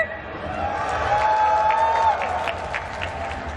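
Crowd at the live gamescom 2022 award show cheering and applauding, with whistles and shouts rising and falling across the hall under an amplified voice.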